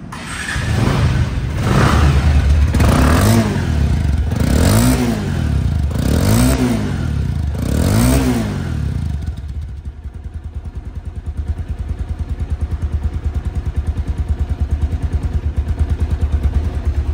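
A second-hand Bajaj Avenger ABS motorcycle is revved hard close by in five rising, falling bursts before settling into a loud, even, throbbing idle.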